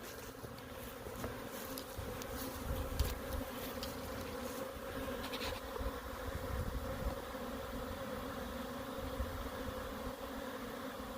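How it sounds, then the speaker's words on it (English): A swarm of honeybees flies around a hive on a pine tree, a steady dense buzzing hum that holds for the whole stretch, with scattered louder passes of individual bees close by. "The sky is riddled with honeybees."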